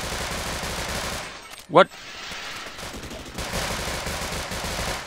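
Rapid gunfire in the Half-Life Sven Co-op shooter game, a dense continuous rattle of shots running throughout, briefly cut by a short shouted word from a player.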